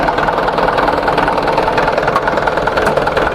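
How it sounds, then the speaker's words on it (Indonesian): The diesel engine of a Mitsubishi Canter 10-ton dump truck idles at close range, a loud, steady rumbling clatter with no talking over it. "Nah ini dia penampakan mesin, suaranya masih normal, masih kering, masih orisinil semua."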